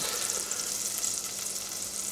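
Chicken thighs skin-side down in butter and olive oil in a casserole pot, giving a steady close hiss of frying and sizzling, no voices.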